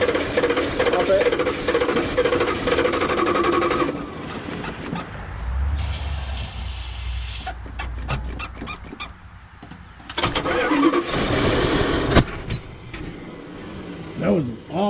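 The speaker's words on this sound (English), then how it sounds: "That was an awesome backfire." A 1978 Dodge Ram W100 engine cranks, catches and backfires, giving a rumbling start with a sharp pop midway and uneven running afterward, while voices talk over it.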